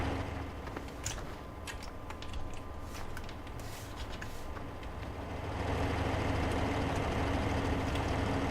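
A tractor engine idles in Farming Simulator 15, a steady low rumble with a droning hum that grows louder and fuller midway, with light clicks and rattles early on.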